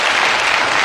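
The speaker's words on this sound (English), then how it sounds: "Your audience, which will clap apparently anything," Studio audience applause on a TV talk show, a short, dense, loud burst of clapping with no voices heard.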